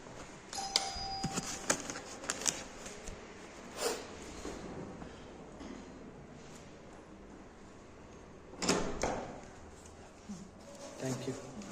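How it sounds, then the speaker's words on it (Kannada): A doorbell rings at a customer's door during a parcel delivery in Bengaluru. A few short electronic chimes sound among background noise, and a person speaks nearby. "ಮತ್ತೆ ಹೊರಗ್ಬಿಟ್ಟು ಹೊರಗಡೆ ಮತ್ತೆ ಬೆಲ್ ಮಾಡಿಕೊಡ್ಬೇಕು."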